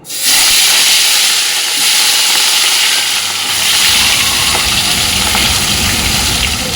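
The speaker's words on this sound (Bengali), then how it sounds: "এবার মাছগুলোকে লাল লাল করে একটু ভেজে নেব" Fish pieces frying in mustard oil in a wok, a loud, close, continuous sizzle and hiss with no voices over it.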